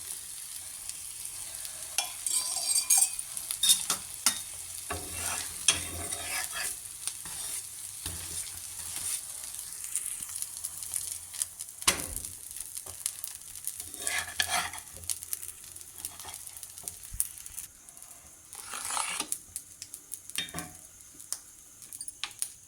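Madurai-style curry dosa sizzling on a griddle with oil, a continuous bright hiss broken by scattered clinks and scraping of a utensil, with no voices.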